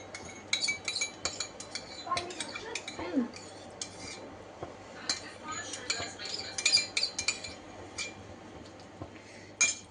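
Spoon stirring fresh cream in a bowl in a home kitchen, giving soft repeated clinks and scrapes of metal on the bowl at close range, irregular and light, with faint background noise.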